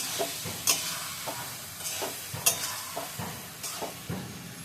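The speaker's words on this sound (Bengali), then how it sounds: "তখন আমি আলু ফেলব ওর আবার ভালো করে মশলাটা মিশিয়ে দিই" Potatoes stirred into a pan of spice masala as it fries: repeated scraping strokes of a spoon with light sizzling underneath, close and moderately loud, with no voices.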